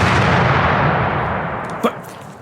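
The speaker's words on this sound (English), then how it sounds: "That's a cannon. Cannonade fire. It's a thundering crash." Cannon fire from an audio drama sound effect: a single thundering crash with a heavy broadband roar that slowly fades over about two seconds, followed by a brief sharp crack near the end.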